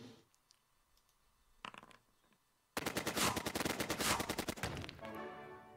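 A tank in the Heroes of Normandie strategy game fires on a bazooka position, a loud rapid burst of machine-gun fire erupting after a few faint clicks, rattling steadily for about two seconds before trailing off.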